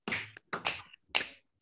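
Three sharp, separate hand claps come one after another with short gaps between them, loud and close. They are part of a group exercise in a workshop on creativity and oppression.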